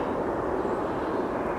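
Airplane near Philadelphia International Airport, a steady broadband engine roar holding level throughout, heard from an outdoor plane-spotting spot with no voices.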